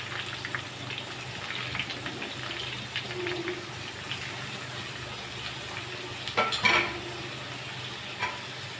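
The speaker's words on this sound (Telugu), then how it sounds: "ఆయిల్ వేసాను కరివేపాకు వేసాను ఉల్లిపాయ మొత్తం వేస్తున్నాను" Onions and curry leaves fry in oil in a pan for mutton curry. A soft, steady sizzle runs throughout, with occasional stirring clatters and one louder knock near the end. No one speaks.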